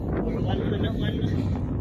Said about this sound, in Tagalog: Kasi, lakas ng hangin eh.